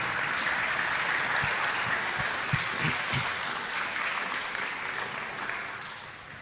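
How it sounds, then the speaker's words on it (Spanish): A church congregation claps loudly and steadily for several seconds, the applause thinning slightly toward the end. "Un fuerte aplauso a nuestro Dios."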